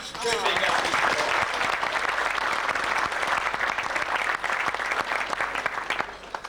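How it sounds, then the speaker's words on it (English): Sustained audience applause for guest speaker Dr. John Hewson at a 1994 business Christmas breakfast, dense steady clapping filling the room for several seconds with a faint voice near the start. "I think just one more round of applause for Dr. Hewson"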